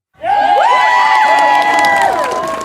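Children's crowd cheering, whooping and shouting loudly for a cheer squad at a Bible-story lesson for grades 4–5, erupting suddenly and holding a dense, sustained roar of excited voices.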